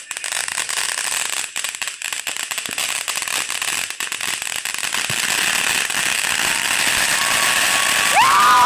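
Fireworks go off outdoors as a loud, dense stream of crackling pops and bangs that keeps building. A faint whistle rises near the end.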